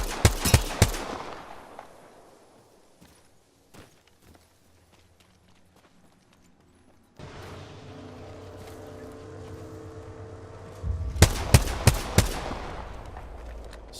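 Bursts of automatic gunfire in the Apex Legends battle royale, sharp rapid volleys at the start and again near the end, with quieter scattered shots and an engine-like drone in between while players talk over comms.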